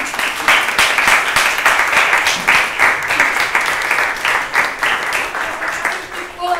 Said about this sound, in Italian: Era proprio da applaudire tutto ciò